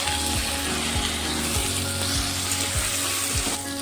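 Onion paste, chili paste, cumin, coriander and Kashmiri chili powder fry steadily in a pan for muri ghonto, a continuous close sizzle with a spatula scraping and stirring at a regular rhythm.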